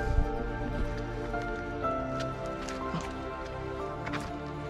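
Water runs over a steep rock slope at Cheengeri Rock in Wayanad, giving a soft, continuous trickling wash with faint drips throughout.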